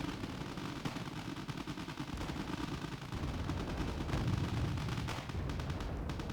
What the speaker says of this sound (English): the reservists do have bolt-action rifles, but for their animation for firing, they fire them like submachine guns